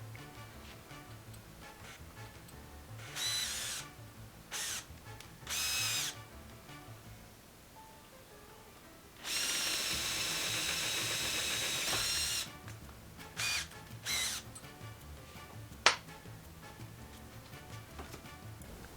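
A 15/32 drill bit bores into metal in short bursts, then one longer steady high whine of about three seconds, followed by a few more brief spurts and a sharp click, all fairly faint.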